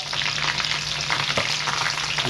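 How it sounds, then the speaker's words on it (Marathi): Garlic frying in a pan gives a loud, constant sizzle up close, with a brief stirring scrape partway through. "लसूणला चांगली परतून घ्या."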